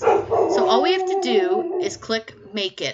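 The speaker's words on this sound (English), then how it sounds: "And I apologize for my dog barking." A house dog gives a few quick yips and barks while someone speaks close up during a vinyl-cutting craft project, the barking partly blended into her talk.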